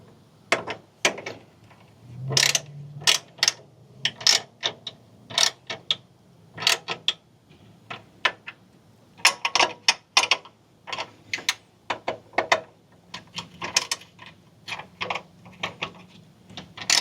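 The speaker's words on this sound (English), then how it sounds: "now we're going to take 1/2 wrench and our 5mm, and we're just going to run everything down tight." A 1/2 wrench runs fender flare bolts down tight on a Jeep JT Gladiator, sharp clicking ratchet ticks in irregular quick bursts with gaps, close and crisp, no talk.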